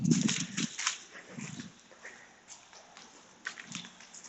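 A large dog snuffles, whimpers and scuffles close by in a few short bursts, fairly faint against a quiet background.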